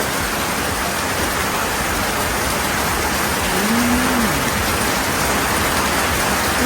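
Heavy rain pours down in a steady, dense hiss, with a brief faint whine rising in the middle.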